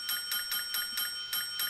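A bell in the TV drama Breaking Bad, a rapid, regularly repeating bright ding sounding about five times a second, faint and alone without talk.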